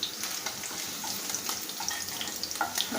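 Paneer fries in hot oil, giving a busy crackling sizzle with scattered pops and spits, fairly faint and steady over a few seconds.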